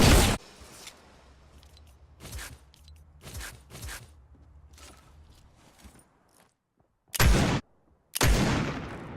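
Minigun firing in a video game, several loud sustained bursts of rapid gunfire separated by pauses, with faint mechanical noise between, no talking.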